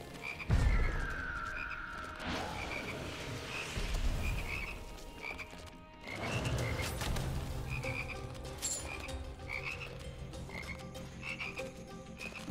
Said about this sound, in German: Ich habe eigentlich mit Fröschen gerechnet.